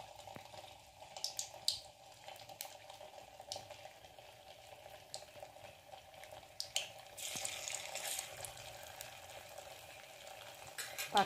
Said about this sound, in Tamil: அந்த ஆயிலில் இந்த ஒவ்வொன்றா முட்டையை சேர்த்து நம்ம ஃப்ரை பண்ணி எடுத்துடலாம்